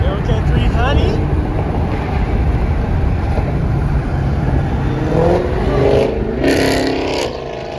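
Dodge Hellcat 300 car engine revving and roaring while on the move, heavy low rumble mixed with wind buffeting, with voices talking over it near the end.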